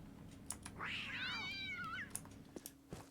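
A cat in the Postal 4 video game lets out one drawn-out, wavering meow, fairly quiet, with keyboard clicks tapping around it.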